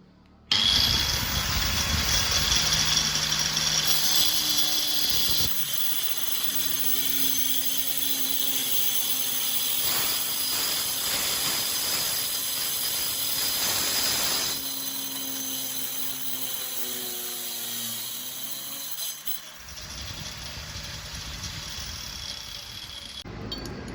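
Large angle grinder mounted on a stand cutting one-inch material, a loud sustained motor whine with a pitch that shifts under load, running close for most of the stretch before winding down.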